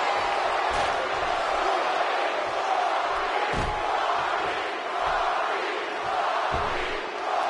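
A wrestling arena crowd in the WWE 2K17 video game roars continuously, a dense, loud wash of cheering and shouting with occasional slam-like thuds standing out above it.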